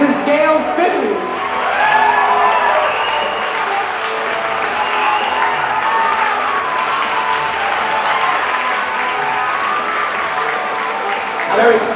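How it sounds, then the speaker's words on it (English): Wedding guests give a big round of applause for the groom's parents at a Newport reception, dense loud clapping with some cheers and whoops, with voices talking over it. "Have a big round of applause for the parents of the groom, Mr. George Fitton and Mrs. Gail Fitton"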